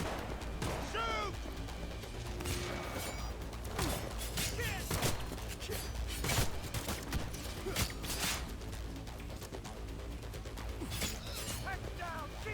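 Gunfire in the video game Cyberpunk 2077, dense bursts of shots and crashing impacts throughout a chaotic firefight, with shouted voices over the combat.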